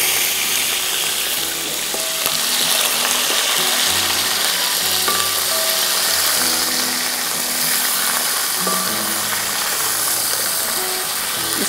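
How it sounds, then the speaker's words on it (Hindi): Chicken frying in a large pot for restaurant-style Al Rehman chicken biryani, a loud steady sizzle with clattering and scraping of a utensil against the metal running throughout, no voices. "इसको हमें 5 मिनट फ्राई करना है, जब तक कि चिकन पिंक से वाइट हो जाए"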